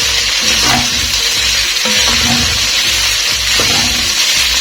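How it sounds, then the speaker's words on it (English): Peas stirred into sizzling kheema with potatoes in a sufuria, a loud continuous frying hiss with occasional spoon scrapes, close up and without speech. "I'm going to add in my peas. Mix everything well."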